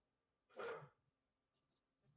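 A single dog bark, short and fairly close, followed by quiet background with faint sounds, heard in a home while someone games online.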